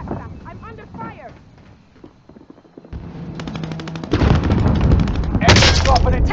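Gunfire in Call of Duty: Warzone, where bursts of rapid automatic shots grow dense and loud near the end. A radio-style game voice speaks early on, and a quieter stretch comes before the shooting.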